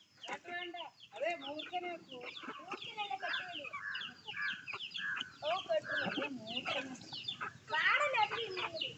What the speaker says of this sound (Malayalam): ഇതാ വെള്ളക്കോഴി.